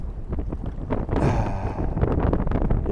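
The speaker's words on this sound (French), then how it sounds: "le vent est sacrément monté, sacrément monté" Strong gusty wind buffets the microphone outdoors at a beach during kitesurfing, a loud continuous roar with rumbling surges and no voices.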